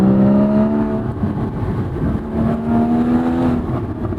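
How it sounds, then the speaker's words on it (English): A stock Porsche Boxster GTS exhaust revs with a deep, rising engine drone, swelling and easing twice as the throttle is worked, loud and close. "That exhaust sounds so good,"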